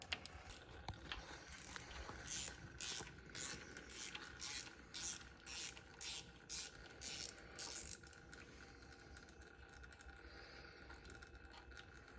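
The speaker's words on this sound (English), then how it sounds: "A ratchet right there." A ratchet on a Farmall C tractor clicks in a steady run of about a dozen quick, faint metallic clicks, then falls silent against a quiet background.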